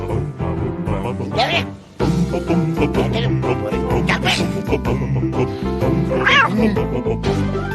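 A cat meows several times in a Turkish TV advert for İpragaz, its cries rising clearly over steady background music, with voices from the advert mixed in.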